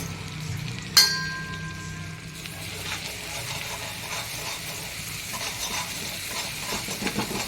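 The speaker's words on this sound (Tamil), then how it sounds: "ஒரு பச்சை மிளகா, ஒரு சின்ன கஷ்ணம் இஞ்சி போட்டு நல்லா வதக்கணும்." Garlic, green chili and ginger sautéing in butter in a hot pan, a close, steady sizzle and hiss with a sharp clatter near the start, then ongoing scraping and stirring.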